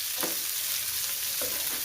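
Mango pieces sizzle steadily in a hot frying pan, while a spatula gives two distinct scraping stirs through the crackle.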